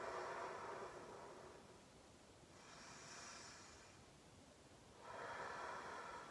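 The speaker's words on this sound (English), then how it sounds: "Slow breath, full inhale, and complete exhale." Slow, full yoga breaths come through very faintly, each soft, airy exhale swelling and fading in turn, alone with no talking.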